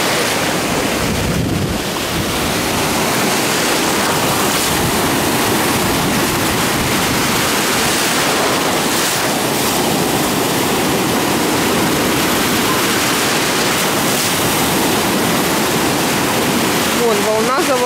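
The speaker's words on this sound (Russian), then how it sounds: "Вон волна за волной." Ocean surf in stormy weather rolls onto a beach in loud, continuous breaking waves, with wind buffeting the microphone; a voice speaks briefly near the end.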